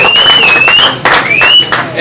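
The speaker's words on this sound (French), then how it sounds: "Alors applaudissez pour Tshisekedi." A crowd at a gathering claps and cheers for a Congolese speaker, loud close applause mixed with a sustained high whistle and voices shouting over it.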